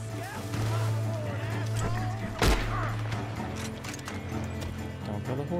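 Horse hooves clip-clop during Red Dead Redemption 2 gameplay under steady game ambience, with a sharp gunshot-like crack midway and a voice talking over the scene.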